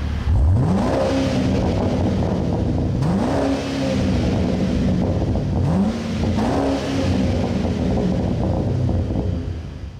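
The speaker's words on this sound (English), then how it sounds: "you got dual exhaust, big old dual exhaust, because this is the V8, and boy does it rumble." A 2013 Chevy Caprice police car with a V8 and big dual exhaust revs three times in a row, each blip rising then settling into a deep, loud rumbling idle close by.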